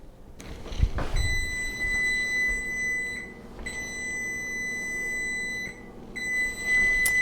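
A kitchen oven timer going off after a 15-minute interval while roasting a marinated boneless leg of lamb, sounding steady high-pitched electronic beeps in repeated bursts with short pauses, after a brief clunk, no talking.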